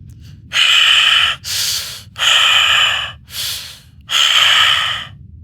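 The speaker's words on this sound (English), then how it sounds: "And then that's when I heard breathing." Heavy, close breathing over a phone line: loud rasping inhales and exhales alternating in a slow, uneven rhythm, with silence between breaths.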